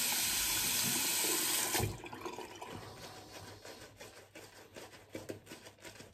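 Hot water gushes loudly from a tap for about two seconds during a wet shave, then cuts off, leaving quieter splashes, drips and handling noises in a bathroom.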